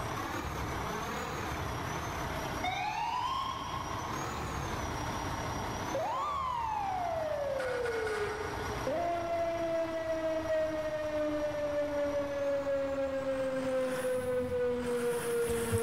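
A fire engine siren in the EmergeNYC firefighting game wails and sweeps up and down, then shifts into a long falling tone over a steady engine rumble, loud and continuous throughout.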